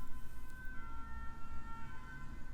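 An ambulance siren sounds from a distance, a steady high wailing tone held over a low traffic rumble, faint and continuous throughout.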